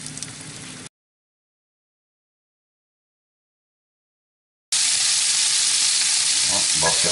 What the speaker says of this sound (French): on va mettre à frire nos boulettes, tout simplement, qui ont été farinées